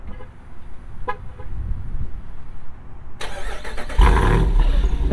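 A 2022 Jeep Wrangler 392 V-8 with quad exhaust: a quiet idle-like hum, then the engine cranks and fires with a sudden loud roar that swells and holds, close and powerful.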